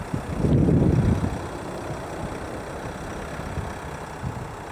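A Eura Mobil 760 motorhome's engine running as it is driven a short way, a low steady rumble that swells louder briefly at the start, then settles into an even drone with no talking.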